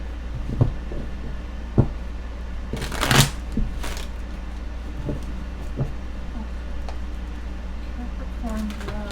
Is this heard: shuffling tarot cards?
yes